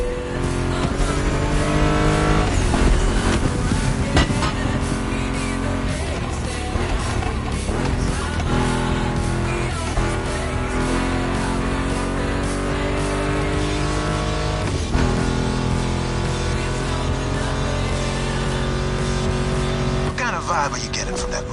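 A Ford Mustang GT muscle car in The Crew Motorfest roars loudly throughout, its engine note climbing and dropping through gear changes with sharp rev surges, while a voice speaks over it.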